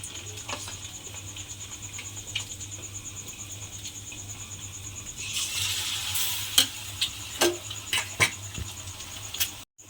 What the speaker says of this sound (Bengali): এটাকে এইভাবে গরম তেলের মধ্যে দিয়ে দিতে হবে। দিয়ে ডিমটা কিন্তু আমি এইভাবে ভেজে নেব প্রথমে।